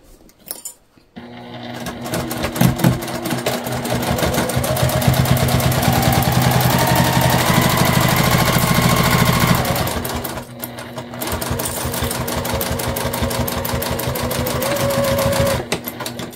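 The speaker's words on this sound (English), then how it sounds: "We're going to sew this one all the way together." Sewing machine running long continuous seams to join a beginner fabric bag, with fast, even mechanical stitching that stops briefly, then starts again and runs steadily until near the end.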